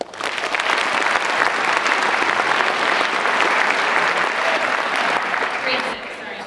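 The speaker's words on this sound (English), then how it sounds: "a round of applause for those students" Audience applause for a fifth grade school chorus at an evening concert, a dense sustained wash of many hands clapping that holds steady and tapers slightly at the end, with no voices over it.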